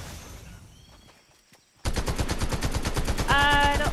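Automatic gunfire blasts from a gun in a video game: after a quiet stretch, a loud, fast, steady stream of close shots runs to the end without pause.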